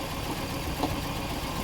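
A Toyota Estima Hybrid with the 2AZ-FXE engine idles with a cylinder misfire and severe shaking, giving a steady low rumbling drone with a faint uneven pulse.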